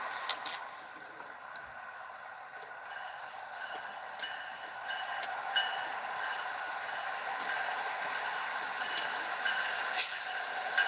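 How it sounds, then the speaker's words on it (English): A passenger train rolls steadily through Acworth, Georgia, a continuous close rumble with metallic wheel hiss and faint squeal building gradually over the whole stretch. "the train is passing through Ackworth, Georgia"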